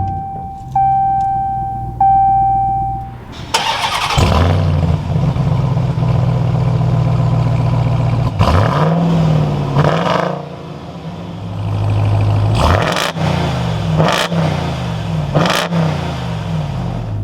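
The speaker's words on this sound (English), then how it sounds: "now inside the TRX, keeping my foot on the brake, we can go ahead and fire it up" A 2021 Ram 1500 TRX fires up with a sharp starter crank, then its big engine settles into a deep idle broken by several loud, quick revs that swell and fall back, close and clear with no talk.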